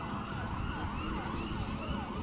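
At the El Jabalí motorcycle race track in El Salvador, an ambulance siren cycles up and down continuously, somewhat distant beneath a dense wash of broadband noise.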